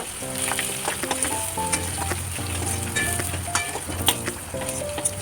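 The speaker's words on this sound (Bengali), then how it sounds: "তো ভালো করে আমি নুন হলুদ দিয়ে আলুটাকে ভেজে" Potatoes fry in oil with salt and turmeric, giving a loud, continuous sizzle broken by stirring scrapes, with faint tonal background music underneath.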